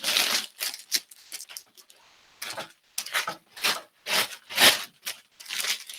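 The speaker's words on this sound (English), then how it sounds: "we're also going to remove the cellophane and the paper" Cellophane and paper wrapping pulled off a bunch of flowers, heard as a close series of crisp crinkling and tearing bursts with a brief pause partway through, no voices.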